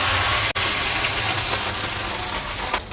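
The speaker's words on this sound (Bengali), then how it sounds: "যে মাছের ডিমটা ছিল ম্যারিনেট করা, সেটা ঢেলে দিচ্ছি আস্তে আস্তে।" Marinated fish roe is poured slowly into hot oil in a wok already tempered with black cumin, raising a loud, steady, close sizzling hiss that barely varies throughout.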